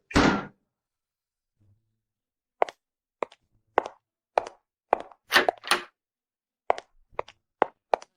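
A door sounds in a Hindi cartoon: an opening thump, then a series of sharp knocks and thuds in an uneven rhythm against silence, with no talking.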